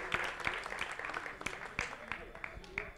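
Applause for a line-following robot team at a robotics competition, sparse individual claps at an uneven rhythm, fairly faint and roomy, with a voice heard beneath them.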